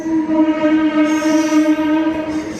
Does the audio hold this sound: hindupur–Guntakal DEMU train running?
yes